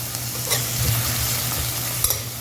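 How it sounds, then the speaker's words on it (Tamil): Whole black pepper tossed into hot oil for a potato masala, a close, steady sizzle with stirring scrapes and a couple of sharp pops near the end, no voices. "பெப்பர் போட்டேன்."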